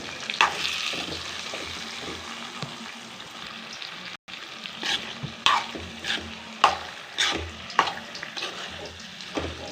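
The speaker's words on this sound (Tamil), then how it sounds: "நம்ம கத்திரிக்காயெல்லாம் வதக்கின கத்திரிக்காயெல்லாம் போடுறோம் கொஞ்சம் கொஞ்சமாக. ஸோ இப்போ இது நல்லா நம்ம அது கூட சேர்த்து கிண்டிக்குவோம்." Sautéed eggplant pieces stirred in a frying pan for a biryani-style eggplant dish, with repeated scraping strokes and light clatter over a steady, close sizzle.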